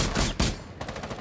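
Gunshots in Rainbow Six Siege, a pistol fired at cameras: two sharp, loud cracks in quick succession, then fainter rattling clatter.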